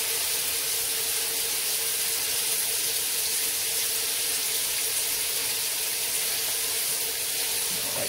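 Shower water runs in a steady, dense hiss, close and constant, with no talk over it.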